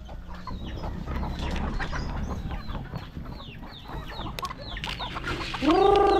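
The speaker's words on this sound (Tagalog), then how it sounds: "oras na po ang ating pagpakain ng ating manok" Flock of backyard chickens clucking at feeding time, a dense, steady chorus of overlapping clucks and cackles close by, with a louder call rising near the end.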